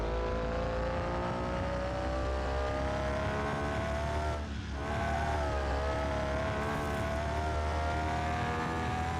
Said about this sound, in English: This car sounds like it's just like mad at me. Just like moaning constantly.